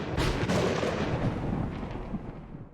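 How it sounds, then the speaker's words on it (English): Thunder samples in a dubstep track boom and rumble, a loud close crack at the start rolling into a broad, decaying roar over a few seconds, with no voices. "still some of the thunder samples"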